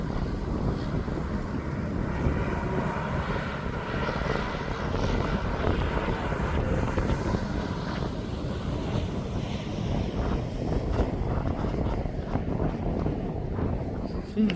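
Antonov An-124 cargo aircraft, 21 years old, taxiing at East Midlands Airport, giving a steady, loud low-pitched engine roar and rumble with wind buffeting the microphone throughout.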